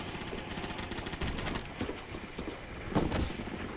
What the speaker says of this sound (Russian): Вот у меня звуки, будто тут кто-то стреляет.